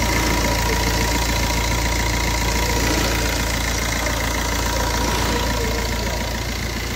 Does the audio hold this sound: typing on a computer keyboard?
no